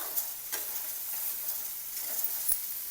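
Soaked poha stir-fries in a pan with chopped coriander, a steady moderate sizzle broken by a few light scrapes and taps of the spatula, with no voices.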